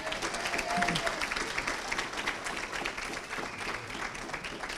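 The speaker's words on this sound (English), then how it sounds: "How about another round of applause for Jackie?" Sustained applause from a crowd at a high school sports banquet in Wilmington, steady dense clapping for a speaker, with a few voices faintly underneath.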